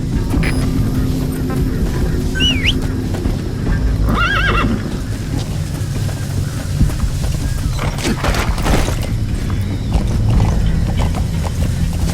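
A horse in Metal Gear whinnies briefly amid steady clopping hooves and a low droning background, the neigh short and fairly near.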